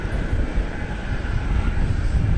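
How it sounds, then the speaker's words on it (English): An Airbus A321 airliner at DFW Airport gives off a steady, broad jet roar with a faint whine riding on top, moderately loud and unbroken throughout. "It's an Airbus A321, flight 1650."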